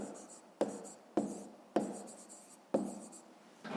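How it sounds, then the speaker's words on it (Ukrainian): Pen strokes on paper while writing out a 5th-grade math answer: five evenly spaced, close scratching bursts, each starting sharply and trailing off, with no voice over them. "Ну що ж, зараз записуємо відповідь. Пишемо відповідь."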